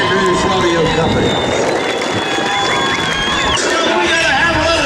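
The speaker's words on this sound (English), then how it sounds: "How about a round of applause for our four-legged athletes of rodeo" A rodeo arena crowd on a Friday night at a championship bull-riding event, loud and steady with broad applause, cheering and crowd noise filling the space without pause.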